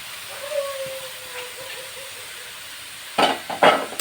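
Boiled chickpeas and banana flower being stirred in a pan with fried cumin and ginger, a soft steady scraping hiss followed near the end by two louder, sharper clattering stirs close by.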